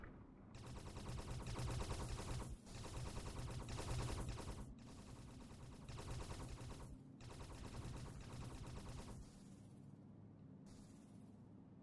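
Rapid bursts of spaceship weapon fire in the space colony sim game Space Haven, dense repeated shots in long loud stretches with brief pauses between volleys.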